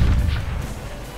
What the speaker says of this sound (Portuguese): foi um tiro que me acertou